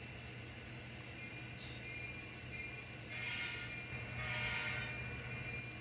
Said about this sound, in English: get our switcher on to move back to NS Yard